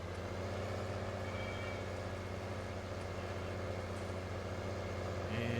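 A tractor engine labors under heavy load while pulling farm equipment in the PC farming game Farming in Seneca County, a steady, loud, droning rumble that holds throughout without a break.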